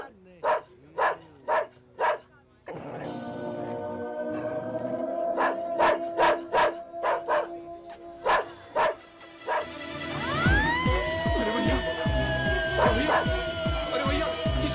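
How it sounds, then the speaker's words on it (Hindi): A dog barks in a rapid series of sharp, loud barks, pauses while a voice speaks, then barks again in a quick run before howling and whining amid tonal background music. "किसका कुत्ता है ये?"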